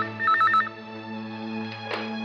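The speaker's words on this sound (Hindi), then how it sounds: "एक मिनट, फोन आया" A telephone rings in a brief electronic burst of repeated tones, close and clear, followed by a low steady hum and a soft click.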